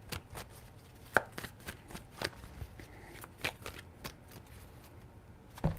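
Tarot cards shuffled by hand, a quiet run of soft riffling snaps and taps in an irregular rhythm, close and faint, with no voice.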